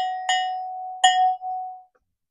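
A small bell is struck twice during a savings challenge, two bright metallic dings about a second apart, each ringing out cleanly and decaying with no talk over them.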